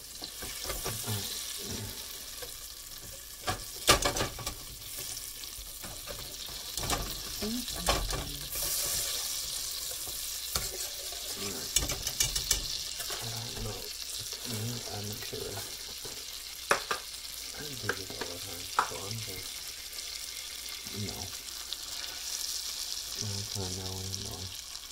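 Butter melting in a pan for caramel sauce gives a soft, low sizzle, broken by a few sharp clinks and scraping sounds of stirring.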